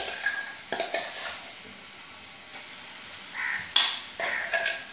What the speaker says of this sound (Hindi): अब मैं उसी को यहाँ पे फ्राई करने वाली हूँ।